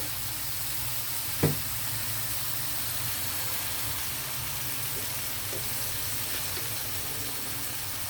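Tomatoes fry in a pan with turmeric and salt, giving a steady, moderate sizzle with no talking and a single soft clink early on.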